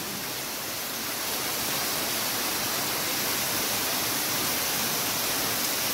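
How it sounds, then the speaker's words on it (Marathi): Waterfall roaring outdoors in heavy rain on the route from Badlapur to Haji Malang, a steady, dense broadband rush that holds constant and loud from start to end with no voices. "धबधबा,"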